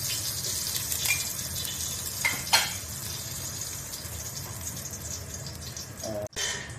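Whole spices, cinnamon, cardamom, pepper and cloves, sizzle in two spoons of ghee in a biryani pot for a Kothamangalam dum biryani, a steady hiss with a couple of brief sharper spits and a short clatter near the end.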